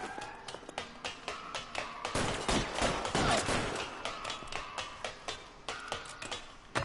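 Gunfire in the video game LA Noire, a steady run of sharp shots and bursts, some layered together, going on for several seconds with faint game noise under it.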